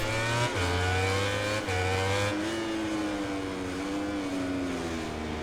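Racing motorcycle engines in MotoGP 19 at the Circuit of the Americas drone and shift pitch steadily, with gear changes and a loud, continuous whine over several seconds and no voices.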